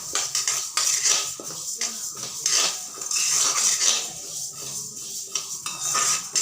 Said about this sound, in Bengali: এখন এভাবে নেড়ে নেড়ে ভেজতে হবে।